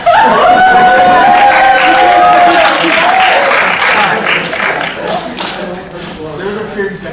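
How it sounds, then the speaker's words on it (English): A cheering section at a World Scholar's Cup quiz round bursts into loud applause and whoops, a dense wash of clapping and raised voices that gradually eases off over about seven seconds. "There's a cheering section."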